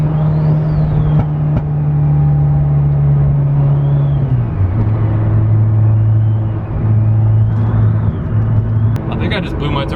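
A turbo whistle sounds from a blown turbo on an oil-burning MK6 Golf R, a steady high tone over the loud continuous rumble of the running engine, with the pitch dropping slightly partway through.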